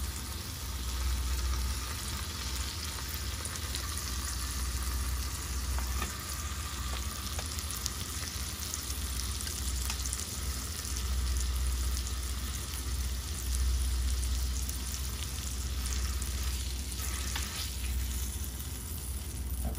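Scallops pan-fry in oil over a low flame, giving a soft, continuous hiss and gentle crackle that stays even and fairly quiet for the whole stretch, with no voices.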